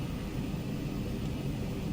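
A Twin Otter on skis taxis in Microsoft Flight Simulator 2020, heard as a steady, low propeller-engine drone and rumble, moderately loud and unbroken, with no voices.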